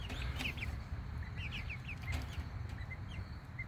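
Young chickens, recently bought ahead of winter and kept in a coop, make soft repeated clucks and peeps over steady low background noise, with several short calls scattered through the moment.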